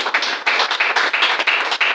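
Small group clapping for honorees being named, a few hands beating in a quick, uneven rhythm of distinct claps, close and fairly loud, with no talk over it.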